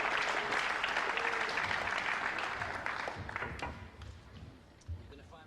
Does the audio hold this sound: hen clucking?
no